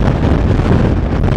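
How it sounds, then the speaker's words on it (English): Strong wind buffets the microphone in loud, low rumbling gusts throughout the short moment. "it's going to be really windy now"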